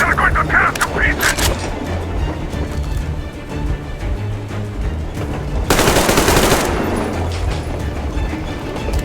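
Gunfire crackles in the video game Metro Exodus, with rapid automatic bursts and booms under a loud, dense battle soundscape while voices shout over the fighting.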